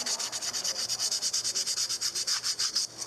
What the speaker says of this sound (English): a video piece highlighting the sounds of the woodworkers as they constructed their artworks